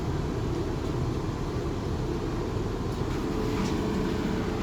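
Inside a South Western Railway Class 450 electric multiple unit on a bumpy run, a continuous low rumble and roar of wheels and motors fills the carriage, steady and close, with no talking.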